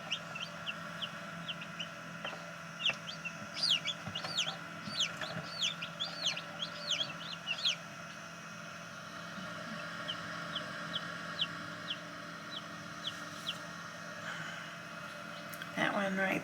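A newly hatched chick inside a Nurture Right 360 incubator peeps in quick, high, close bursts for several seconds, then falls to softer, sparser chirps over a steady hum.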